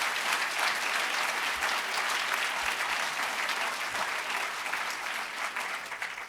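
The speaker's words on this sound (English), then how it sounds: "Let's give them all another round of applause." An audience at a governor's transportation funding announcement applauds the state legislative delegation, steady dense crowd clapping that holds for several seconds before tapering slightly.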